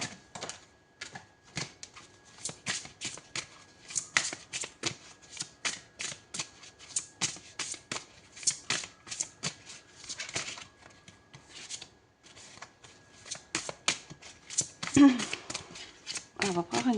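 Tarot cards being shuffled, a quick series of crisp riffling and flicking bursts, close and fairly quiet, repeating irregularly throughout.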